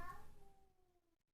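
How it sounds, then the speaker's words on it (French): A house cat meows once, close by and fairly quiet, in a drawn-out call that fades away during an indoor crochet session. "Oui, ça c'est mon chat."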